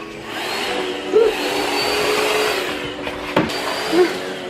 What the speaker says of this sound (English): Bad. Bad vacuum.